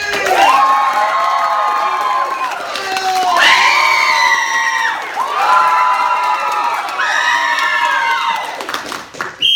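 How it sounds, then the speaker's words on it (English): An audience at a graduation show cheers, shouts and claps for a team in loud, sustained waves that rise and fall several times. "Clap loud for both teams, but clap louder and harder for the team that you want to win."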